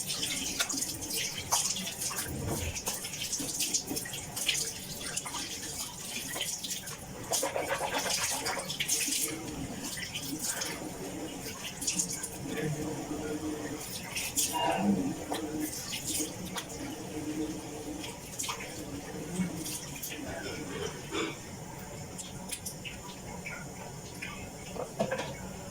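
Water runs steadily from a tap during hand washing of clothes with white soap, with continuous splashing and occasional knocks, close by and without speech.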